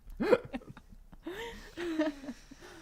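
A couple of short, sudden gulping hiccups amid soft breathy vocal sounds, close and fairly quiet.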